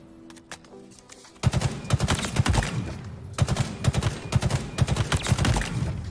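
Halo Infinite weapon hip-fired at range: a few quiet shots, then rapid sustained automatic fire, loud and punchy, with short rhythmic bursts and brief gaps between them.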